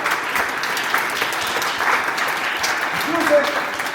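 Continuous clapping from a seated audience at a reading night, even and moderately loud, with a speaking voice briefly cutting through near the end.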